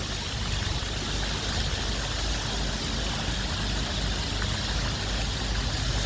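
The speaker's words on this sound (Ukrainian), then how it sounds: "Ще одна площа з фонтаном." Continuous splashing and trickling of water flowing from a sculpted fountain in a square in Mannheim, Germany, steady and fairly close, with no voices.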